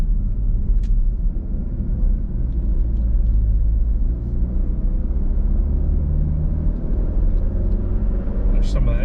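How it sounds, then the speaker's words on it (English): A steady low rumble of a 2020 Ford Explorer driving on a rough road, with an engine drone throughout and a faint engine rattle. "There's some of that engine rattling again."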